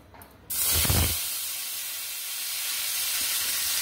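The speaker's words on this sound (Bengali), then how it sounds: "এভাবে আলুটাকে দিয়ে দিলাম। আলুটাকে একটু নেড়ে ভেজে নেব।" Potatoes drop into hot oil in a wok with a sudden thump, then a loud, steady sizzle and hiss of frying continues evenly afterward.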